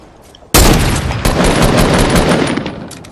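Enemy gunfire in Fortnite erupts suddenly after a quiet moment, a loud, dense burst of rapid shots that rattles on for a couple of seconds and then tapers off.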